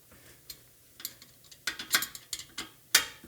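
Ratchet wrench snugging down transmission mounting bolts during installation, a series of quick metallic clicking bursts that grow denser and louder toward the end, close and alone without talk.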